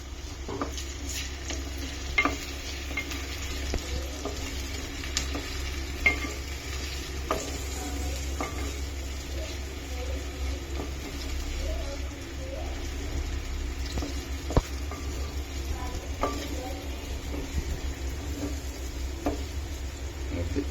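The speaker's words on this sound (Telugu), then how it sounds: "ఇప్పుడు పచ్చిమిర్చి, టమాటా వేసుకుందాం. సో వేసుకుని బాగా తిప్పుకుందాం." Green chillies and tomatoes fry with onions in a pan, giving a steady close sizzle for about twenty seconds. Occasional scrapes and taps of stirring come through, with no talk.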